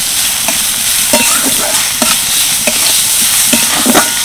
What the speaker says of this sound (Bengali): দিয়ে দেবো পেঁয়াজ কুচি, গাজর কুচি, সামান্য একটু আদা কুচি, হালকা নেড়ে চেড়ে নেব।